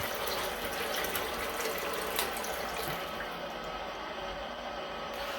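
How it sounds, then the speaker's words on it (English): Water gushes steadily and loudly from a water heater's temperature-and-pressure relief valve into a bucket, a continuous close-up rushing splash that lasts the whole stretch with no talk. "water is now coming out"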